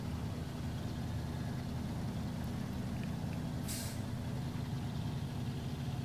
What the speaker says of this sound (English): We'll go into low gear, get the diff locks on just to get us up this hill.